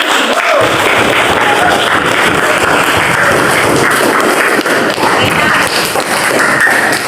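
A classroom group claps together in dense, continuous applause that stays loud and close for about seven seconds, with voices mixed in under it.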